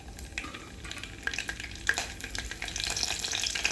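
Mustard seeds, cumin and curry leaves sizzle in hot oil, a soft crackling hiss with scattered pops that grows busier and louder toward the end, with no talking.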